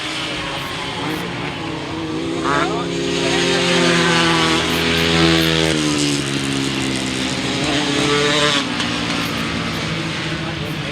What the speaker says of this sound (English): Tom Penfold misfiring badly on that Honda